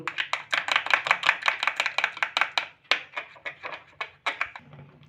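Rapid, rhythmic tapping of a utensil whisking batter in a bowl, quick sharp strokes in steady bursts with a brief pause midway.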